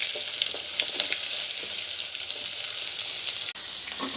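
Chopped onion and garlic fry in a tablespoon of oil for palak aloo bhaji, giving a dense, steady close-up sizzle with a few faint stirring taps and a brief dropout near the end.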